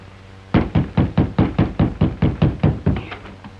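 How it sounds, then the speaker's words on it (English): A steady run of about eleven loud, evenly spaced knocks on a wooden door, close and isolated, in a 1936 western radio drama. "Knock again, louder."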